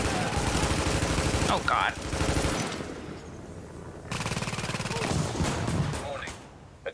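A deployed turret in The Division video game fires bursts of rapid automatic gunfire, loud and near, with brief pauses and a voice exclaiming over the shots.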